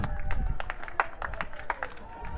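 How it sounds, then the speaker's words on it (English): An athletics crowd at a national championship cheers and claps to encourage a jumper, a moderate, steady mix of applause and shouts from a smallish but vocal gathering, heard briefly at a distance. "from the crowd, which is present in lesser number but quite vocal and quite encouraging"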